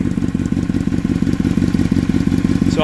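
A Honda CBR1000RR motorcycle engine idles with a rapid, steady clatter, loud and close, with a brief sharp rise in pitch at the very end.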